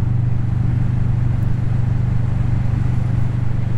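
A Kawasaki Vulcan S motorcycle engine drones loud and close in a steady, unbroken rumble while riding, with no one speaking.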